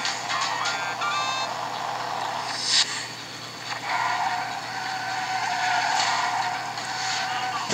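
A kart drives a custom track in ModNation Racers on the Vita, its engine a steady buzzing drone with tire skids and squeals, brief beeping game cues, and a rushing swell midway, continuous and close throughout.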